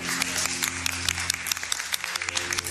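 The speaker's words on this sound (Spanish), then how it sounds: "Un aplauso." An audience applauding, steady close clapping with crisp individual claps over a low hum, held throughout at moderate loudness.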